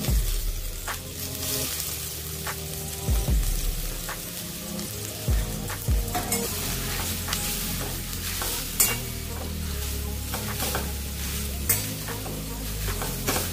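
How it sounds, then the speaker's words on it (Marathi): Grated beetroot frying in hot ghee in a pan: a steady sizzle with stirring and scraping throughout, punctuated by a few sharper clinks of the spoon against the pan, with no voices. "यात आता आपण किसून घेतलेलं बीट घालून घ्यायचं आहे"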